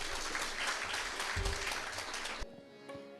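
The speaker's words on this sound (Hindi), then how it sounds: "तो एक बार फिर से ताली हो जाए।" An audience at a devotional bhajan concert claps in a brief, moderate burst of applause that stops abruptly, leaving a quiet room with a faint hum.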